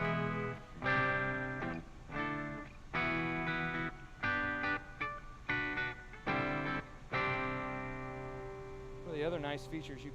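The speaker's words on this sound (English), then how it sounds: "Put some EQ and some reverb, and it sounds good." Parker electric guitar played through its piezo pickups with EQ and reverb, giving a bright acoustic-like tone as a series of strummed chords ring out and decay, with a few sliding notes at the end.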